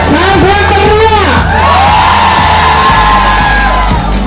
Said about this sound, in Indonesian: Ada diangkat tepuk tangannya. Sangat meriah.